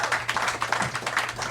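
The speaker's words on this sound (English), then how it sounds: "Big round of applause for yourselves for showing the fuck up here tonight." Audience applause and clapping at a live podcast show at the Hollywood Improv, a short dense burst of many hands that fills the room evenly with no talk over it.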